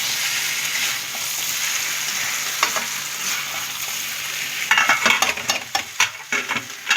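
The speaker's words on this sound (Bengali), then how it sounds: "আমার ছানাটা দিয়েও ভালো মতো ভাজা হয়ে গেছে।" Chhana (cottage cheese) and softened tomatoes sizzle steadily in a pan. Louder clusters of spatula scraping and clatter arrive in the final two seconds, with no voices.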